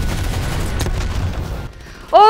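A grenade blast in the video game Call of Duty Black Ops Cold War: a loud, rumbling explosion with crackling gunfire, briefly fading, then a sharp electronic tone rising at the end.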